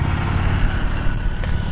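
A 2015 Harley Davidson XG750 Street motorcycle engine running at a steady idle, a loud close low rumble with an even throbbing pulse and no revving.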